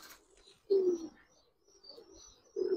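Naptha pigeons give two distinct low, throaty coos about two seconds apart, near and fairly loud over a quiet background with faint high twitters.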